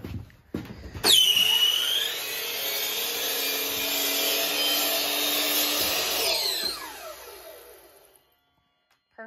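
A power saw cutting through a piece of wood: after a few knocks, a high whining cut rises, holds steady for about five seconds, then winds down to silence.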